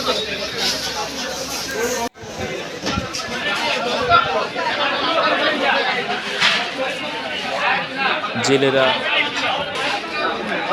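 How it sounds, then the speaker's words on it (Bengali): A crowd of buyers at a riverside fish market selling hilsa, shrimp and other fresh fish: a dense, steady babble of many voices close by, with one voice speaking above the din. "ক্রেতাদের ভিড়।"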